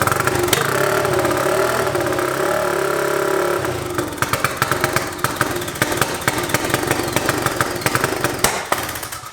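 A turbocharged EFI 660 engine in a lawnmower idles roughly and out of time, first a droning run, then an uneven, popping, stumbling rhythm of irregular bursts, close and loud.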